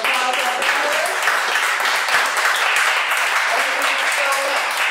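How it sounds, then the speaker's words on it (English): Steady applause from a panel discussion audience at a public arts festival, a dense wash of clapping that holds throughout. "Give a round of applause."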